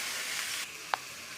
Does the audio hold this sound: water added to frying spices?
yes